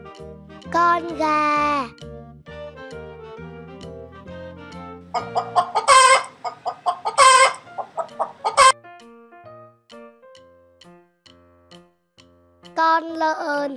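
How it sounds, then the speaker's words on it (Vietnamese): Chicken clucks and squawks from a children's animal-learning clip, a few short loud bursts mid-clip set between bright musical tones and a voice. "Con gà."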